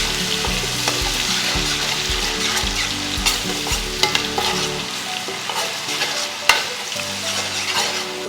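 Ginger-garlic paste fries in a pan for curry leaves chicken, a continuous sizzle with frequent spoon scrapes and stirring knocks up close, the stirring easing off partway while the hiss carries on.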